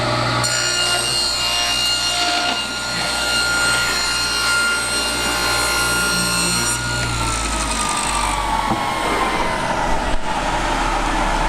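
A saw running through a wooden board to trim it to length, a loud steady buzzing cut that shifts in tone partway through, close and continuous with no speech.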